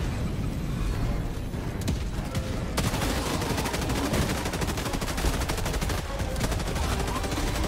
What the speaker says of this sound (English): I'm using Dax's turret to my advance.